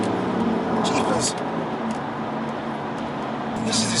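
A Litchfield-tuned BMW M3 F80 drives along with a steady engine and road rumble heard from inside or close by, while intermittent voices talk over it.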